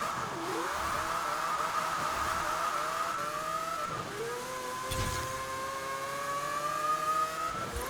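A Mazda RX-7 engine in Forza Horizon 4 screams through repeated rising revs with short shift breaks, a loud, high, buzzing note climbing gear after gear, heard alone without talk.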